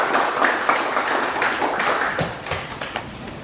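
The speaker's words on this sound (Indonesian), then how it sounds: "Tepuk tangan dulu." Classroom applause from students during a lesson, a brisk, fairly close patter of hands clapping that stays steady and then thins out into a few scattered claps.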